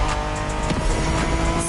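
A Honda NSX, a 1990s sports car, races in a driving video game, a steady dense engine roar with tire noise running throughout, loud and continuous with no pauses.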